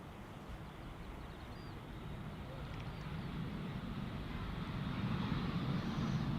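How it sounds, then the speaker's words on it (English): An Embraer 190 airliner arriving at Schiphol Airport after a flight from London City, its broad engine roar steady at a distance and slowly swelling louder over several seconds, with no voices. "This is KLM flight A984 arriving from London City."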